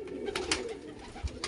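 Pigeons feed on millet and grain in a loft, with soft cooing and bird calls rising over a steady murmur of pecking and shuffling nearby, and a few brief louder bursts.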